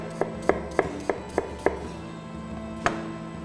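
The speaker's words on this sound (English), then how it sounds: "And you basically peel them and just slice them" Knife slicing through peeled Granny Smith apples on a board, several crisp, evenly spaced chops close up, then a pause and one final cut, with no talking.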